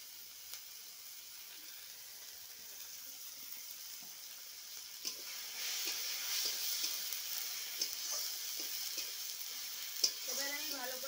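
Masala spice paste with salt cooks in oil for a rohu fish and potato dish, a faint sizzle that swells partway through, with soft scraping stirs at intervals.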